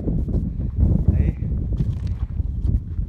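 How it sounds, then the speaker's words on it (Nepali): Strong wind at a fenced mountain viewpoint buffets the microphone in low, gusty rumbles while a person talks over it. "यति यति हावा चलाएको छ भन्ने कुरो साध्य छैन यहाँ"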